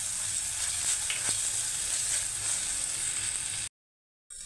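Tomato pieces frying in a pan hiss in a close, even sizzle with a faint stir, then the sound cuts out briefly near the end.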